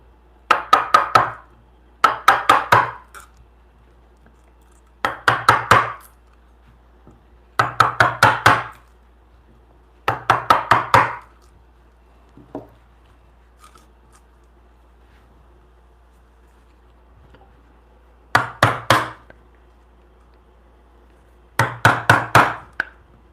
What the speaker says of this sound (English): Using the back side of the chisel here to clean up those edges.